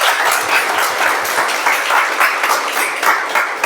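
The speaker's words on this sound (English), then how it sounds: "all of you deserve a round of applause" A roomful of Toastmasters club members at a Whitefield meeting clapping together, an even, continuous burst of applause that carries on steadily from start to finish, with individual claps faintly distinct.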